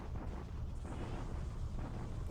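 Artillery bombardment of Changsha in a World War II strategy game rumbles as a dense, continuous low roar of blasts, loud and unbroken throughout with no voices.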